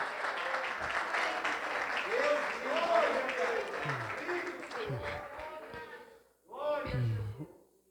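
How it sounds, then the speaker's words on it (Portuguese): A church congregation applauds during a Portuguese-language sermon, a dense roll of clapping that carries on while a voice talks over it, fading briefly near the end before swelling again. "Aplaude, o Senhor é merecedor de toda a honra e toda a glória"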